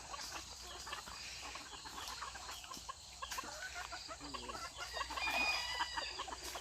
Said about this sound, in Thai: ให้พี่น้องก็เบิ่งไก่ธรรมชาติเลยครับ